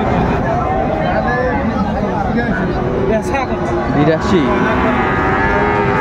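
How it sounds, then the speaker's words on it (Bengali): Bull calves of Friesian and cross breeds moo repeatedly amid a dense, noisy cattle market crowd at Raniganj, low calls rising over constant chatter and bustle. "ষাঁড় বাচ্চা"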